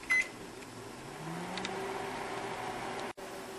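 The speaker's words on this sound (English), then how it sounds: "I actually still have it in the microwave." A microwave oven hums steadily while heating a frozen pizza, a close, constant drone with a brief beep-like tone near the start and a short cutoff near the end.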